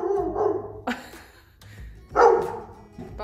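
A dog barks in a house during a sewing workroom build, several sharp loud barks spaced irregularly with brief whimpering and quieter gaps between them.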